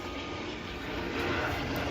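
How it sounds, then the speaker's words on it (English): Airplanes pass overhead in a steady, broad engine roar that swells slightly and stays loud throughout, with no talking. "if you hear planes flying overhead, it's because there's planes flying overhead"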